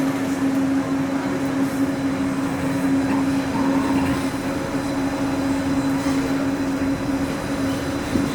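The Disneyland Monorail runs with a steady, loud interior rumble and a constant motor hum, without a break for the whole ride segment.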